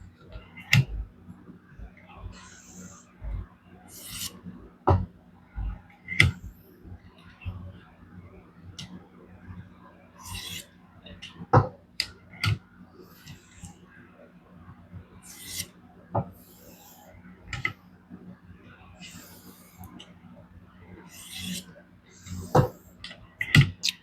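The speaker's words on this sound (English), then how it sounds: "And now we'll do a edge leading pass or two." Edge-leading sharpening passes on a DC53 steel Hx Outdoors Rock Apex knife using a Xarilk Gen 2 sharpener: a string of dry rasping scrapes with sharp clicks at irregular intervals, close and moderately quiet, with no talking.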